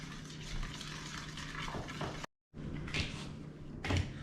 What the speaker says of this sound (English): I'm going to kind of stir that up.